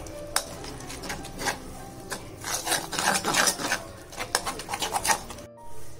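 A spoon scrapes and rubs through a thick mix of lemon juice, corn flour and maida for a hariyali chicken kabab marinade, a close, rhythmic rasping and clinking against the bowl that pauses briefly near the end.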